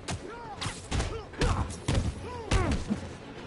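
Rocket impacts in the Spider-Man video game: four or five heavy, booming thuds land at uneven intervals amid busy game audio with warbling tonal chirps.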